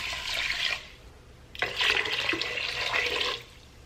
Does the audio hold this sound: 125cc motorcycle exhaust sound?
no